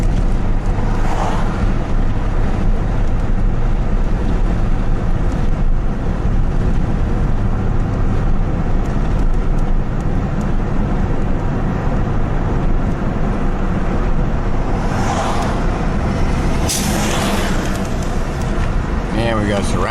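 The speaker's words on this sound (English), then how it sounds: "We got all kinds of traffic." Road traffic rolls along old Highway 101 in Astoria, a constant loud roadway rumble mixed with heavy wind buffeting, while people talk over it.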